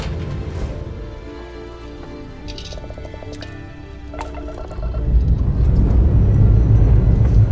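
Spaceship lifting off in the game Starfield: a steady low engine rumble with small beeps and chimes that swells into a louder, heavier roar over the last few seconds.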